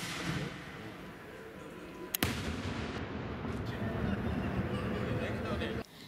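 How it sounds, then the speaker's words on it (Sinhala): A ceremonial gunfire salute for the Kandy Esala Perahera, fired near the Magul Maduwa in the Temple of the Tooth grounds, cracks once as a single sharp report partway through, set against a steady wash of outdoor noise. "ඒ තමයි පෙරහැරේ ආරම්භය සහ අවසානයේ දැනුම් දෙන වෙඩිහඬ."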